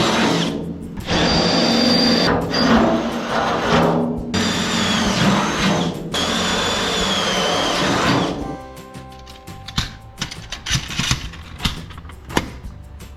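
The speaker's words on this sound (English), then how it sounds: "These hyperstep bits I got from Matco, these things are great. Gonna be able to go right to 1/2 inch." Power drill with a Matco step bit boring holes during a sliding ragtop roof install, a loud sustained whirring in several long bursts, followed by quieter clicks and handling clatter.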